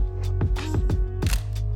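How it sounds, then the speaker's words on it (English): A Nikon F3 film camera, triggered through a Godox wireless flash trigger, gives a quick run of sharp, close mechanical clicks and clacks, loud and without talking. "Let's fire the shutter."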